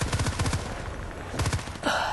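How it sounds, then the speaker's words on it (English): Rapid bursts of automatic gunfire in a multiplayer shooter at Port Valdez, several quick rattling volleys up close with a brief gap in the middle and a sharper crack near the end. "I'm just shooting."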